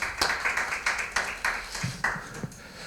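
Scattered hand clapping from a seminar audience, a handful of distinct claps in an uneven rhythm rather than a full ovation.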